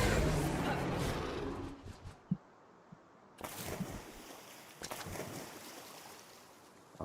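Water rushes and splashes steadily as a character cruises across water in the video game Palworld, loud at first then thinning to a quieter wash with occasional splashy surges; speech is faint.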